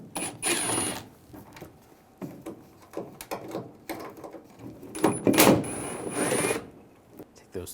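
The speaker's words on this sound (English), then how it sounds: "We're going to take these two screws out, use a T25 socket." A T25 socket driver removes screws from the reverse light housing on a Ram 1500, giving short whirring ratchet-like bursts with clicks and clatter close by, in irregular spurts with pauses.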